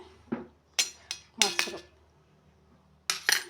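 Metal spoon clinking and scraping against a bowl while mixing a homemade turmeric face pack, a few sharp separate knocks in uneven bursts with quiet gaps between.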